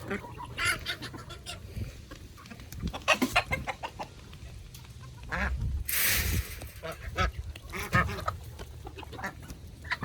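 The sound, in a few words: chickens clucking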